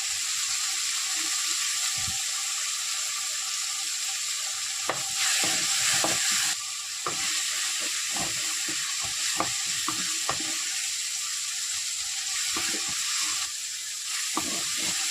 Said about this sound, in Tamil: ஓரளவுக்கு வதங்கி வச்சு இந்த டைமில் மசாலா போட்டுக்கலாம்